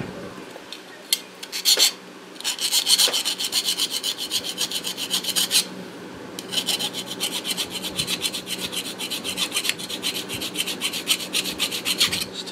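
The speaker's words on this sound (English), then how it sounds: "Just take off all the rough edges where you've cut with the Dremel." Hand filing of rough edges left by a Dremel cut on a model train tube, a steady scraping rasp of repeated strokes, close and fairly loud, with a few brief pauses and no talking.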